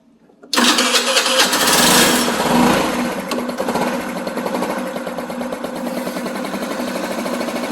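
A small moped engine starts abruptly and then runs steadily at idle, a loud, close buzzing drone with a steady pitch that dips slightly after the first couple of seconds.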